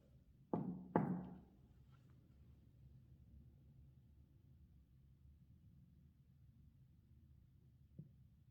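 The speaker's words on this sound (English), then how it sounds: "You're going to knock like this." Two faint hollow knocks in quick succession inside a quiet old church, followed by long near-silence and one softer single knock near the end.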